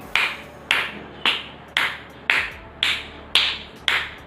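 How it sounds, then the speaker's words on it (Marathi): A fist striking the open palm of the other hand in a seated exercise, eight crisp, evenly spaced slaps about half a second apart, close and clear with no talking. "एका हाताची मूठ दुसऱ्या हाताच्या तळव्यावरती मारायची आहे"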